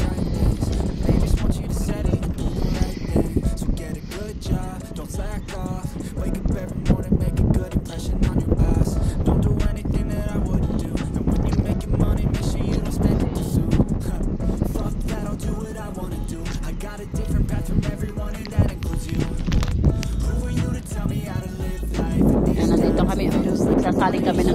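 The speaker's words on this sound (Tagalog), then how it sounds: "malakas pa man din ang hangin" Strong wind buffets the microphone on a boat at sea that has run out of fuel, a loud, continuous roaring rumble with gusty fluctuations and faint water noise throughout, with no voice clearly heard.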